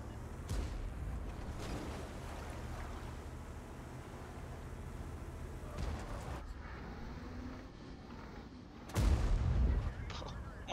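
Tank cannon fire in the World of Tanks video game: a deep booming shot near the end, with a quieter earlier thump, heard over a low rumbling battlefield ambience.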